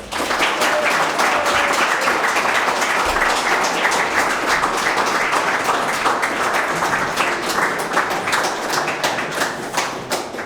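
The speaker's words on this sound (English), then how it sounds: "give a big round of applause and thanks to him" A large crowd at a live event in London applauds steadily, dense clapping that stays loud for the whole stretch before easing slightly at the end.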